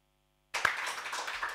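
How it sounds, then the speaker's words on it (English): Applause breaks out suddenly in a conference room after silence, with a sharp first clap and then steady, moderately faint clapping from a small crowd. "There's applause here in the room"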